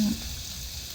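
Short burst of sizzling as beef ribs fry in hot oil, close up and steady after a brief initial thump.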